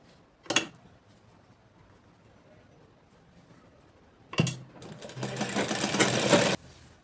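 Sewing machine stitching a ladies' palazzo pant: a short whir near the start, then after a pause a louder sustained run of stitching for about two seconds that stops abruptly, close by with no talk.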